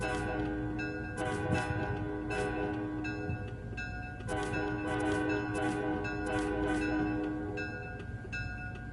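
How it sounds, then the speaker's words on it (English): In a video game, a train horn sounds in long sustained blasts over a steady rumbling engine, with a clanging bell pulsing rhythmically throughout. "We'll just honk this horn for fun though."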